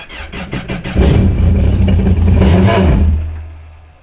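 A car engine with a slow, weak starter cranks with rapid clicking turns, then catches and roars loudly before settling into a low, steady idle.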